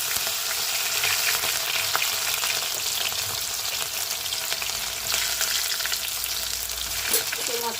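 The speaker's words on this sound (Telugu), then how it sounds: "మొత్తం అయితే లైట్గా ఫ్రై చేసేసుకోవాలండి." Onions and green chillies fry in hot oil with a loud, continuous crackling sizzle, heard close up. Faint stirring runs through it and a few sharper spatters stand out.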